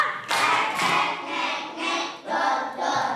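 A class of students claps in unison during a classroom chant, several sharp group bursts of clapping in a quick rhythm, fairly close and loud.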